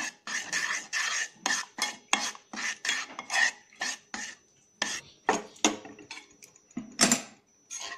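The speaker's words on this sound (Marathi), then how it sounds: "मिल्क टाकून घ्यायचं आहे मिक्स करून घ्यायचा आहे" A spoon clinks and scrapes in a bowl as milk is mixed into khoa for mawa kulfi, making a quick, close, even rhythm of short bursts with no talk.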